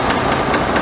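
An International 1586 tractor engine idling, a loud, close, steady mechanical rumble with a slight knocking pulse through a brief stretch.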